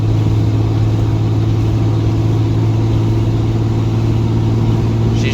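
A Ram 2500 pickup cruises at about 75 mph on the highway towing a trailer, its engine a loud, steady low drone with constant road and wind noise and no breaks.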